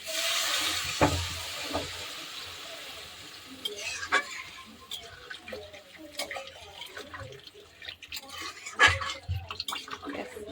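Water is poured into a pan of simmering katla fish curry with potato and cauliflower, a soft splashing and gurgling that mixes with light sizzling and stirring clatter at moderate loudness.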